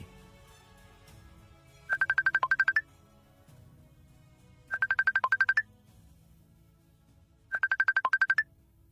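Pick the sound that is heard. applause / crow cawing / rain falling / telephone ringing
telephone ringing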